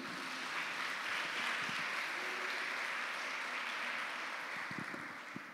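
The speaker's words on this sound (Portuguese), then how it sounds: "Aplauda Jesus." A church congregation claps steadily throughout, a dense, sustained wash of applause with no voices rising above it.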